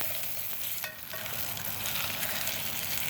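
Three slices of Cotto salami frying in a pan outdoors at a park, a loud, steady crackling sizzle of rendered fat, close up and continuous, with a brief dip and a few clinks of a utensil.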